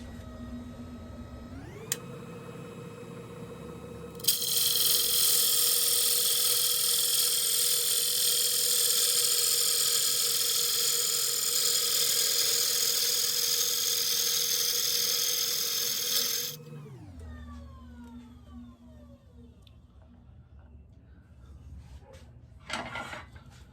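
A half-inch lathe gouge makes a final cut on the outside wall of a small Manila tamarind wood bowl: a steady loud hissing scrape over the lathe's hum for about twelve seconds, after which the motor spins down and runs on alone.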